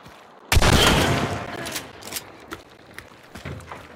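Gunfire in the video game Hunt Showdown: a loud sudden shot opens a ringing burst that decays, followed by several lighter pops and thuds spaced out over the following seconds.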